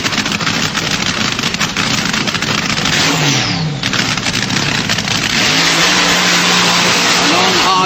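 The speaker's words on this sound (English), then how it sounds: "Burnout for Crane." A vintage drag racing car doing a burnout at Santa Pod in the UK, a loud, sustained engine roar with revs climbing and surging throughout, close and unbroken.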